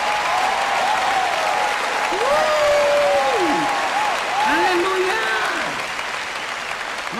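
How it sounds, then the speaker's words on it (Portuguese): Audience applause for mothers at a church sermon, a broad steady wash of clapping that holds throughout, while a voice calls out and sings over it. "vamos dar às mães aqui um grande aplauso"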